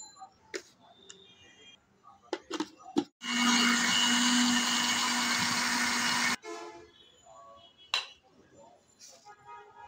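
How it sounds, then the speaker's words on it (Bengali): An electric blender jar whirs loudly for about three seconds as it blends chopped gondho bhadali leaves, a steady high motor roar with sharp starts and stops, framed by clicks and clinks of the jar being handled before and after. "যে কোনো সাইজ করে কাটা যাবে, কারণ এগুলো আমি ব্লেন্ডারের জারে ব্লেন্ড করে নেব।"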